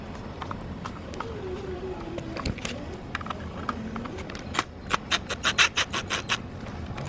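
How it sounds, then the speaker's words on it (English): Phillips screws are driven in to secure a backup camera on a BMW, heard as scratchy rasping and clicking screwdriver turns that grow into a faster run of sharp ticks near the end, up close with no talking. "Now I can secure it with the Phillips screws."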